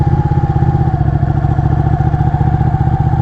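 A motorcycle idles and putters steadily up close during a riding safety course, a loud, even mechanical rumble with rhythmic clatter and no talk.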